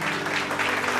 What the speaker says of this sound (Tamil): கைத்தட்டுங்க ஒருத்தவருக்கு ஆமென்